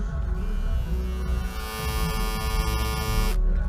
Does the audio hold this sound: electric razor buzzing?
yes